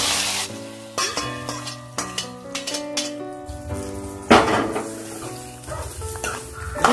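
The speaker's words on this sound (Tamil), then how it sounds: "கடுகு பொட்டிடுச்சு. கருவேப்பிலை போடணும்." Mustard seeds and curry leaves crackle and sizzle in hot tempering oil for Kerala-style aviyal, a steady frying hiss with sharp pops and a louder burst midway, over soft background music.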